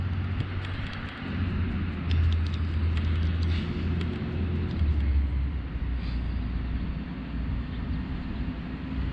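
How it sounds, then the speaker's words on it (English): A big garbage truck rumbles past and backs up, a steady heavy low engine drone with a louder swell in the middle and faint higher tones above, close and continuous with no talk. "Here comes a big garbage truck."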